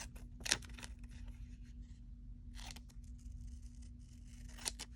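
Scissors trim the white edge off a paper planner sticker, giving a few close, crisp snips and light paper rustles over a faint steady hum, without speech.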